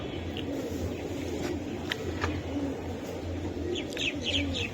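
Pigeons, large Giribaz high-flyer birds for sale, coo in low repeated pulses at close range, with a few thin chirps and faint background noise.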